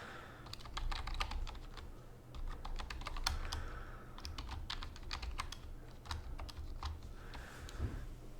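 A computer keyboard typed on in uneven bursts of quick clicks, close and fairly quiet over low background hum, with no talking.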